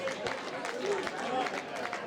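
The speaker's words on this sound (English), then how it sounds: "Please round of applause for Rusty as he comes forward to say a few words on behalf of New South Wales." An awards ceremony audience at a national men's teams final, a soft continuous patter of clapping from a crowd, fairly distant, with a murmur of voices mixed in.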